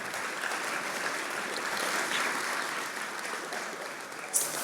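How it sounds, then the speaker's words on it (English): Applause for three guest speakers at a celebrity sports night banquet, a steady wash of clapping from a large seated crowd, even and sustained throughout with no talk over it. "I'd like to give them applause"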